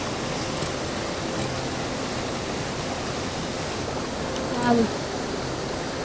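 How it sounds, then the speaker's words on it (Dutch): A waterfall and river rush with a constant broadband hiss, and a person speaks a single word near the end over the steady water noise. "The waterfall and the river it becomes."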